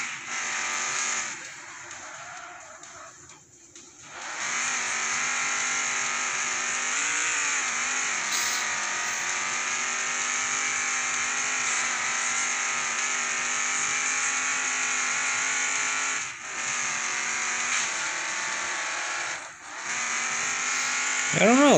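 A Mercedes 280SL engine in the racing game Demolition Derby 3 drones steadily and loudly through most of the run, with brief dips and a rising rev near the end, while someone talks over it.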